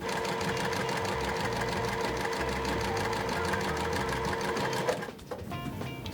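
A sewing machine runs fast and steady for about five seconds, stitching jelly roll quilt pieces, then stops with a brief clatter and a quieter mechanical hum.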